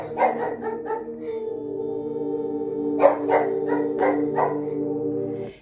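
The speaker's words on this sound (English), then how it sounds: "sorry about the dog" A dog barks in a few short bursts, first near the start and again later, each followed by a quick series of yips. The barks sit over a steady, droning meditation tone that plays throughout.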